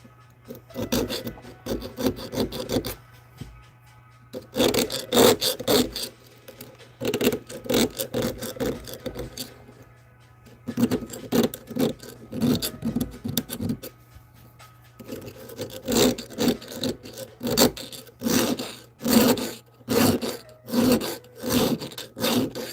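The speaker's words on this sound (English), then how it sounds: "I'm going to try to get the burrs off this side." A file rasps burrs off a small handmade key in rhythmic back-and-forth strokes, loud and close, coming in several bursts separated by short pauses.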